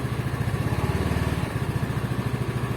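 A Motorstar Easyride 150 fi motorcycle with cracked mag wheels idles nearby, its single-cylinder engine putting out a steady, fast, evenly pulsing chug that stays loud and unbroken throughout.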